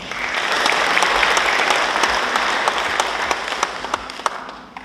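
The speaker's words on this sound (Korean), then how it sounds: "박수 한번 보내주시죠" A hall audience at a Gaya history academic conference applauds, sustained clapping with a few sharp individual claps standing out near the end, swelling and then fading away.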